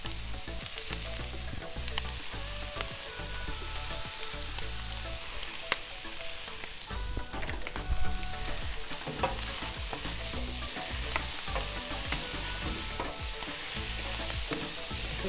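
Vegetables and carrots frying on a flat griddle for combo fried rice: a steady sizzle throughout, broken by frequent scraping and tapping from a spatula as the food is pressed flat and moved around.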